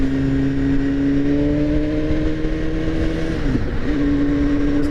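A 2016 BMW S1000RR motorcycle engine hums at steady light throttle on a freeway, a loud, close, sustained drone with wind noise, shifting pitch briefly near the end, no talking.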